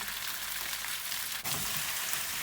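Tomato paste sizzles steadily in hot oil as peppers, tomatoes and garlic cook with it, a dense, even hiss that briefly dips and then swells again partway through, with no talking.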